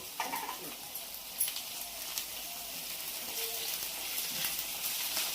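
Prawn curry with fenugreek leaves fries in a pan with a faint, steady sizzle and a few soft stirring scrapes.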